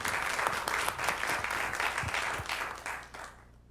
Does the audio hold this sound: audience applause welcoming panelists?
yes